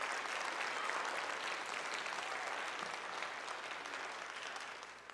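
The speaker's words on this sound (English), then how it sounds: "A round of applause for them." A crowd applauds at a high school marching band showcase, the clapping steady and dense at first, then slowly thinning and fading toward the end, heard from a distance without talk.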